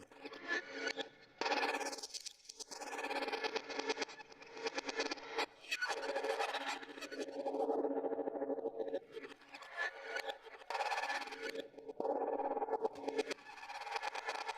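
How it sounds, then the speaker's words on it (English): Warped, backward-sounding audio with sweeping tones that rise and fall, a continuous processed effect with no clear speech. "So that's reverse the sound in real time"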